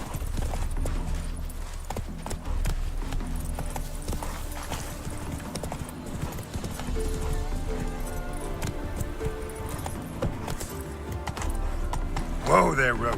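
Roach, a horse in The Witcher 3, gallops with a rapid, steady clip-clop of hooves that runs under other game sounds and ends in a sharper burst near the close.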